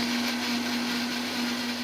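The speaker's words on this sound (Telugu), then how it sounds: "ఒక మిక్సీ జార్లో కడిగి శుభ్రం చేసి పెట్టుకున్న పుదీనా కొత్తిమీర ఒక ఇంచు అల్లం పచ్చిమిర్చి మూడు వెల్లుల్లి రెమ్మలు వేసి కొద్దిగా వాటర్ వేసి మిక్సీ పట్టుకోవాలి" A mixer-grinder jar grinds mint, coriander, an inch of ginger, green chillies and three garlic cloves with a little water, giving off a loud, continuous whirring motor drone with no pauses.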